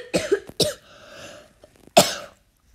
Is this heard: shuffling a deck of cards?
no